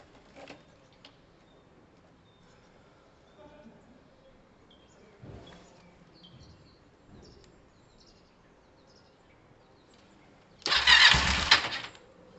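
A Kawasaki ER5 motorcycle with a history of fuel pump trouble and overflowing carburettors fires up near the end as a brief, loud burst after quiet handling noises and faint talk.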